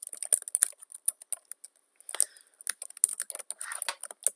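Clattery computer-keyboard typing heard up close, with bursts of quick key taps broken by short pauses, quiet and dry with no speech.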